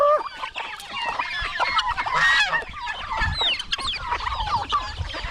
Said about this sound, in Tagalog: Marami po yung pabo ito.